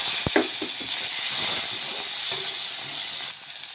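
Panch phoron spices hit hot oil in a heated kadai, giving a loud steady hiss with a few sharp pops near the start before the sizzle eases slightly at the end.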